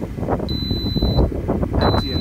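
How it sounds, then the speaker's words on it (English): A septic tank alarm sounds two loud, steady high-pitched electronic beeps, each roughly half a second long, over wind noise and low outdoor rumble. "The alarm has gone off."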